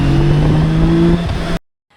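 A 1600cc six-cylinder motorcycle engine revs loudly and close for about a second and a half, a smooth, high, sustained note that then cuts off abruptly to silence.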